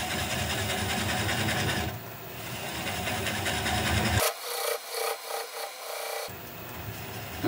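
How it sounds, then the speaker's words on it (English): A 3/8 inch bowl gouge scrapes and rasps against a honeysuckle root spinning on a wood lathe, a continuous close gritty cutting noise with a few short pauses and bursts, no talking. "And I'm going to switch to a 3/8 inch sweatback bowl gouge. And just keep working it away."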